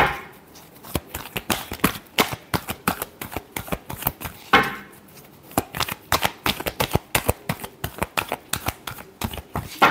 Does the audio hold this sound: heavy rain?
no